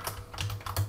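A short burst of keyboard typing, about five quick close keystrokes clicking in an irregular rhythm, with no talking.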